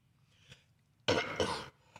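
A man gives a faint throat clear, then coughs harshly twice in quick succession, close and fairly loud against quiet surroundings.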